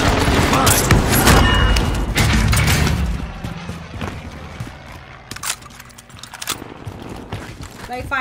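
Explosions and gunfire from an airstrike in a video game come as loud, dense blasts and rattling shots early on. Sharp cracks and bangs follow over a busy background, with voices mixed in.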